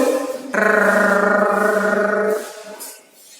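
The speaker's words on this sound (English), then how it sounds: "This is the sound of an electric saw." A steady, buzzing motor whine from an electric saw cutting trees starts abruptly and holds for about two seconds before fading away.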